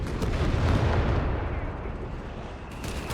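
Artillery bombardment from Company of Heroes 3, with Italian howitzers in play, rolls out as a dense, loud barrage of overlapping booms and rumbling blasts, with commentary partly audible beneath it.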